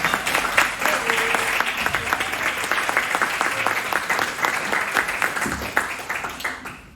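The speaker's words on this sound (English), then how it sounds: "Please give them a warm round of applause." Gala guests at the 2025 CRA Citizen of the Year event give a warm round of applause, a thick, continuous roomful of clapping held steady throughout before tapering at the very end.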